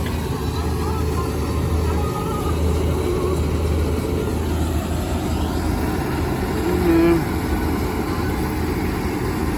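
Tractor engine running steadily during a rice harvest outing, a continuous close low rumble with a brief louder swell near the end; a voice speaks over it at times.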